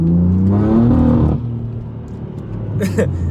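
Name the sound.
2015 BMW M4 accelerating hard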